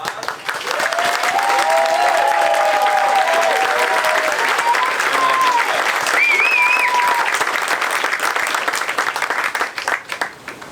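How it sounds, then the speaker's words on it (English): An outdoor crowd at a ribbon cutting for Eugene, Oregon's Downtown Riverfront Park applauds steadily for several seconds, with faint whistles and cheers rising over the dense clapping before it thins out. "round of applause."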